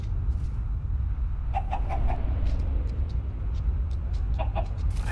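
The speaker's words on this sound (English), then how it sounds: "It's a chicken!" A chicken in Minecraft: Story Mode clucks in short bursts of a few rapid notes, heard twice over a low steady background rumble with no talking.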